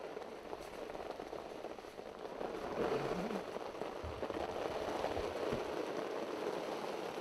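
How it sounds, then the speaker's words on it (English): Rain falls over a pea crop field in the countryside, a soft, continuous patter that is fairly faint and steady, with no talking. "the rain that was supposed to pass didn't"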